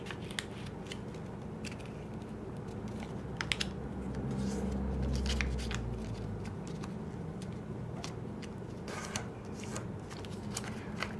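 A dollar bill is folded for origami, with light crisp paper crinkles and sharp creasing taps scattered over a steady low background hum, close and soft.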